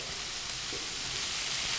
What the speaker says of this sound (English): It went into a hot pan, so it sizzles when I went in.